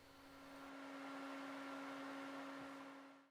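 Steady broadband whir of an air filtration unit running in a workshop, droning at an even level with a constant low hum and no talk.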